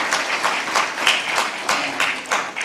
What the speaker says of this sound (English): Let's give applause to IBM for this thing.